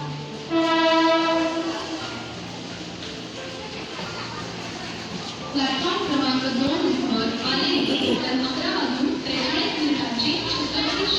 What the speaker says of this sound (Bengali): আমাদের ট্রেন এসে গেছে